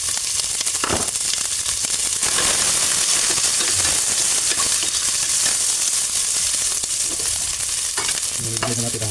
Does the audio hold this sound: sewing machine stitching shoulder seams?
no